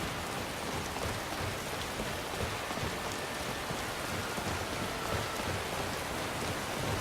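Steady rain pours down in the game Skyrim, a dense, even hiss of drops on surfaces that holds at a constant level throughout, with no voices over it.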